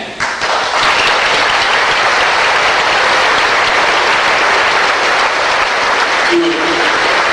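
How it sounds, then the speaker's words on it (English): Loud, sustained applause from a debate audience fills the hall for several seconds after a speaker's closing, steady dense clapping that fades slightly near the end. "If you would please hold your applause"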